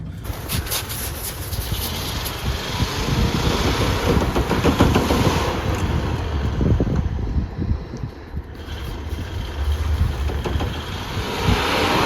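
A steady engine rumble drones continuously with wind buffeting the microphone and a faint high whine over the top.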